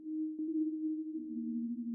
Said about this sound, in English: that's just the basic sine wave with reverb and a bit of unison